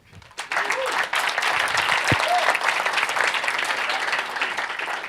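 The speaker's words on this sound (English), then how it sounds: "Applause to all of you." An audience at an app development camp event applauds, with sustained clapping from a sizeable crowd that starts abruptly and carries on steadily for several seconds, with a few faint voices mixed in.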